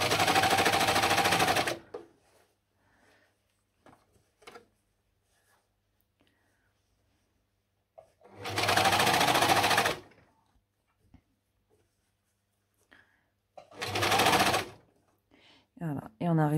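A sewing machine stitches a seam on a boxer short in three bursts of rapid, loud mechanical rattling, each lasting about two seconds, with long near-silent pauses between them and faint handling noises in the gaps.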